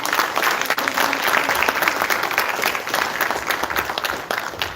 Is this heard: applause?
yes